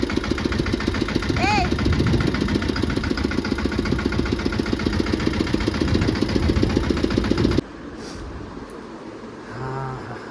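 A tractor engine runs nearby with a steady, rhythmic chugging idle that continues for about seven seconds, then cuts out abruptly, leaving quieter background noise.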